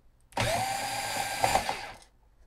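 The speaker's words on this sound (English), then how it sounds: "To take off the lid, we need to remove two screws." A screw being removed from the lid of a Sony power supply unit of an Apple HD20SC hard disk, heard as a close, steady powered whirring that starts abruptly, holds for about two seconds, then cuts off.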